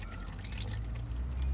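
Water pours from a car with a melted engine, a steady close splashing trickle that holds level and grows slightly louder toward the end.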